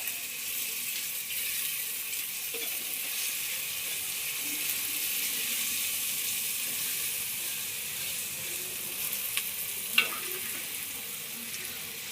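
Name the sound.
spices and food sizzling in clay pot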